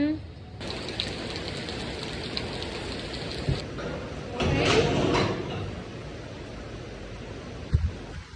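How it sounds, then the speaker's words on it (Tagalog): Heavy rain hisses as a steady broadband wash throughout, with a few knocks and a louder gust of noise midway, while a person speaks quietly nearby. "Lakas ng ulan yan."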